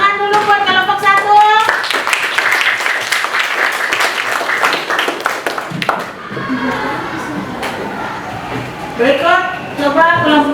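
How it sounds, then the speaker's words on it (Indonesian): Students in a classroom clap for group 1 after a lesson answer, a lively burst of many hands clapping close by that tapers off, with children's and a teacher's voices talking before and after. "tepuk tangan dulu buat kelompok 1"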